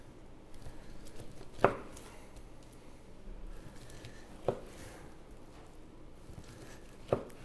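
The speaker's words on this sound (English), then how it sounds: "just cut this whole section into 42-day dry-aged chuck eye steaks" Butcher's knife cutting through a 42-day dry-aged beef chuck roll into chuck eye steaks, three sharp chopping knocks against a board spaced a few seconds apart over quiet slicing and handling sounds, close and without talk.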